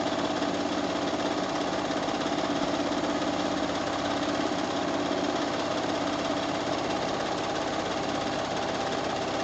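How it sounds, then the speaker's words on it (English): A sewing machine doing free motion quilting with new thread runs in a steady mechanical whir of fast stitching, close and continuous, with no talking over it. "tonight I am free motion quilting using a brand new thread I've never used before"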